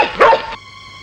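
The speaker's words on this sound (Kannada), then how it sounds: "ಯಾವ್ದೋ ಹುಚ್ಚು ನಾಯಿ ಬಂದಿರ್ಬೇಕು" A dog in a Kannada comedy film scene gives a single loud, close bark, followed by a faint steady electronic hum.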